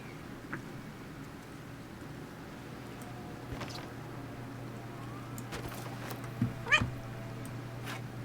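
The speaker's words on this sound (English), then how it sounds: "Cat, what are we doing here?" A cat in the game Baldur's Gate 3 gives a couple of short meows amid low ambient game sound and a steady hum, fairly faint with no talking.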